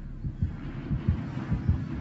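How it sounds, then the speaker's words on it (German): A heartbeat from the video game Dead by Daylight thumps in low, steady double beats, about three pairs over two seconds, over a faint background hum. "Herzklopfen."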